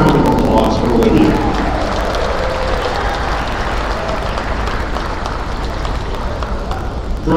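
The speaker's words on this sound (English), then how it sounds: "Let's have one more round of applause for Olivia." Sustained applause from a crowd in a gym at a college volleyball match honoring player Olivia, a steady loud wash of clapping with a voice talking over it.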